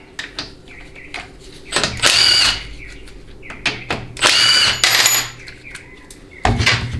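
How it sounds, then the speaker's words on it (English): A power tool, likely a drill or driver, spins out guide plate bolts on a Ford C6 transmission with an FE-series fixed yoke, in several loud whirring bursts close by, interspersed with clinks of metal parts. "next we'll go ahead and remove the guide plate bolts."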